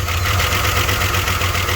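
1997 Dodge Dakota 3.9 V6 running at a steady, close idle after a new battery, with a low rhythmic pulse and no pauses.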